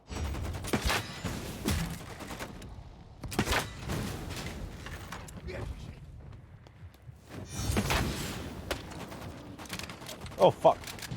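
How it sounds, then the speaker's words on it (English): Hunting rifle gunshots in a video game ring out as several sharp cracks spread across the stretch, with bursts near the start, middle and a double crack at the end, over low game ambience and mechanical clatter. "sounds like it's a hunting rifle"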